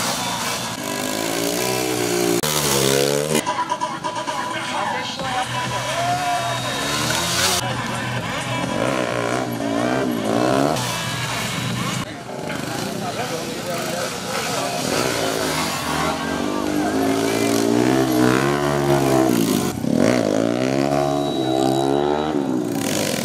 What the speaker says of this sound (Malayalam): ആലാചേറ്റുവ മണപ്പുറം ബീച്ച് ഫെസ്റ്റിവലിന്റെ 3-ാം ദിനം നടന്ന ബൈക്ക് സ്റ്റണ്ട് പ്രദർശനം